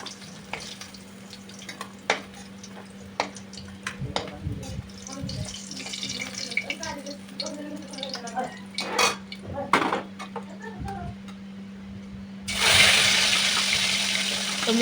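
Fried rohu fish being lifted from the pan onto a plate, with busy clinks and scrapes of metal utensils over sizzling oil, ending in a louder rush of noise.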